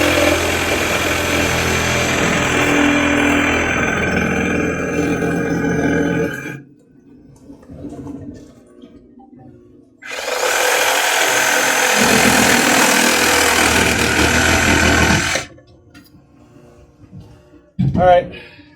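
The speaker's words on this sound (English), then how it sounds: "So I'm going to cut out the old plumbing." A power tool cuts through old pool plumbing pipe in two long, loud, steady bursts of about six seconds each, separated by quieter gaps with brief handling noise.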